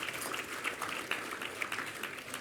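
Scattered applause at an awards show for a critics' association, a moderate patter of clapping with a few sharper claps standing out across a couple of seconds.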